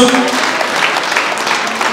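Church congregation applauding at a Nyamataro PAG awards ceremony in Kisii, Kenya, a steady wash of clapping hands that holds for the whole stretch, with some voices mixed in.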